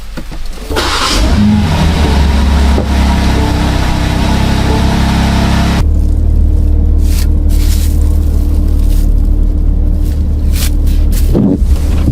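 A BMW G80 M3 with the S58 engine runs loud and close on a dyno, a steady sustained drone that shifts abruptly partway through, with a sharp burst near the end.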